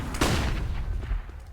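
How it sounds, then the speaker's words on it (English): Flashbangs and gunfire in a Counter-Strike match on the Inferno map, heard as a dense, loud burst of overlapping bangs and shots that crowd the whole moment before thinning out. "It is just a barrage of flashes from either side."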